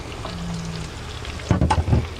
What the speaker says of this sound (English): I've got my butter melted. I'm going to add our spinach and mushrooms